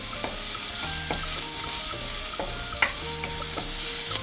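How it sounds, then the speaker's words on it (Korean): Half a chopped onion fries in olive oil in a preheated pan, giving a loud, steady, close sizzle that runs throughout, with light spatula taps and scrapes now and then and no voices. "먼저 양파 반개 다진 거를 올려주고 볶아주세요"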